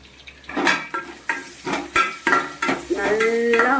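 Cut potato pieces sautéing in a pan, stirred with a utensil in a rhythmic series of scraping, clinking strokes over a soft sizzle.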